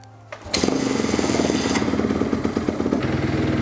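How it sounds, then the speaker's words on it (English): A kickstarted motorcycle catches after a brief silence and settles into a loud, close, rapidly pulsing idle that continues steadily. "So right now, the bike is idling."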